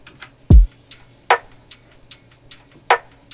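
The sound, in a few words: minimal drums: snare, hi-hats, tambourine at 150 BPM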